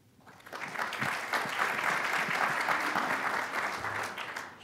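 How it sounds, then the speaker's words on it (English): Audience applause at a Dallas mayoral candidate forum, a full, even wash of many hands clapping that swells quickly and holds for several seconds before starting to fade. "Please hold your applause until the end."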